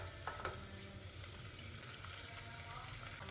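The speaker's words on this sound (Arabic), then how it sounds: "نحمسه كل زين ويا الثوم" Grated garlic and a spoonful of paste sauté in olive or plain oil, giving a steady, close, moderately loud sizzle with faint stirring throughout and no talk.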